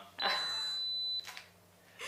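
A camera's self-timer gives a steady high electronic beep that holds for about a second, followed by a short second beep, faint and close under quiet room tone.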